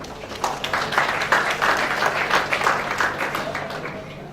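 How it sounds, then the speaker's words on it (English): An inauguration audience applauds a speaker with steady, moderately loud clapping lasting several seconds, some individual claps standing out, with a voice faintly underneath. "A very, very big round of applause to you, sir."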